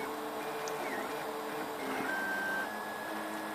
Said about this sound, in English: So what it's doing is when it goes to move over a distance, and you see it do it there, it backs up the filament